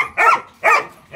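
Loud, close dogs barking outdoors during a guard-dog training session, two strong barks half a second apart with a third starting, sharp and alone.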